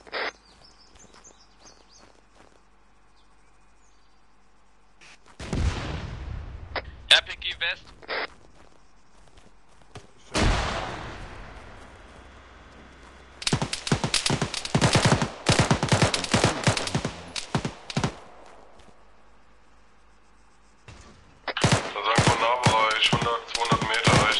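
Gunfire in the video game Arma during a Chernarus Winter co-op match: bursts of rapid shots and single cracks come in several clusters, with footsteps and gear rustling between them and voices talking over the action.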